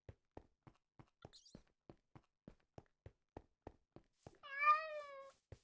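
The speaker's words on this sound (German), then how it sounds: "So, jetzt maut mir die Katze ins Ohr." A cat in a Minecraft game gives a single clear, close meow near the end, after a steady series of soft, evenly spaced footstep taps.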